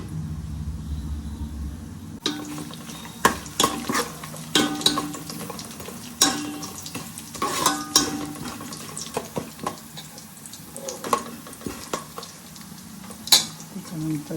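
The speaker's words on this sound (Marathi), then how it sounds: "तेल थोडा गरम झाला का त्याच्यामध्ये खडे मसाले सगळे टाकायचे आहे." Whole spices drop into hot oil in a pan for Agri-style mutton. A quiet hum gives way to a crackling sizzle with sharp pops and occasional utensil clinks, close by.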